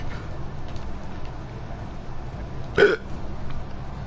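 A single short hiccup from a man, abrupt and close, over a low steady background hum.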